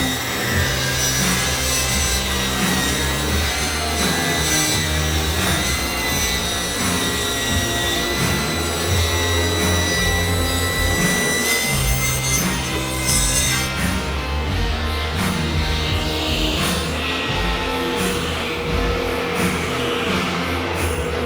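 A table saw rips through a rough-sawn lumber board, giving a loud, steady whine of blade on wood throughout with slight shifts in pitch as the cut progresses; no voices.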